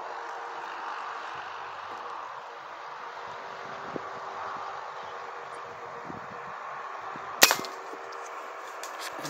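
One sharp, distant crack of a 4.5 mm air rifle shot during a dove hunt cuts through a steady outdoor hiss of wind and rustling, then a short ringing tail fades.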